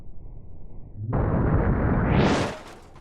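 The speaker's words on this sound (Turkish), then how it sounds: "Biz bunu gidelim şu duvara vuralım" A Volvo car slams into a wall in BeamNG.drive, a loud crunching impact bursting in suddenly and rising to a roaring, scraping crash before fading out, with no talk.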